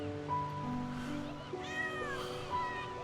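A kitten meowing in a few thin, rising cries over a steady background with sustained music-like tones, close and fairly clear.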